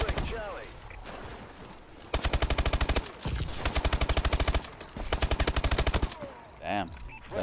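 Automatic gunfire from Call of Duty: Advanced Warfare, in three sustained rapid bursts of rattling shots, loud and close, separated by short gaps with game sounds and brief speech around them.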